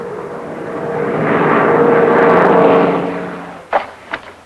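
A Douglas A-26 twin-engine attack bomber passes in flight, its piston engines building into a loud, broad droning roar that swells and then fades, followed by a couple of short sharp knocks near the end.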